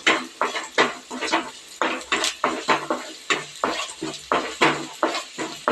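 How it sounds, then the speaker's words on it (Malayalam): Chopped spinach is stirred in a pan for a buttermilk curry, a spoon scraping and knocking against the metal in a brisk, regular rhythm of about two strokes per second, close and alone. "ചീര ഇട്ട് ഇളക്കി"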